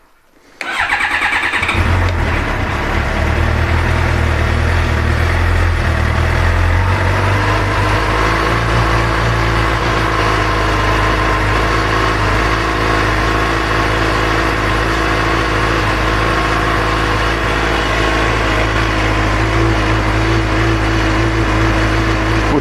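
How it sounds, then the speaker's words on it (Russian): A Suzuki GSX-R 750 L4 sport motorcycle cranks briefly and fires up, then settles into a loud, steady idle that holds without a break, recorded near the machine with no speech. "Выжимаем сцепу, заводим."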